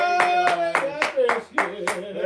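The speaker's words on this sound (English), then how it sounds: "You can hear the crowd again for this one." Fans at a Kentucky versus Robert Morris basketball game clap in a regular rhythmic beat, about three claps a second, over a sustained musical tone in the arena.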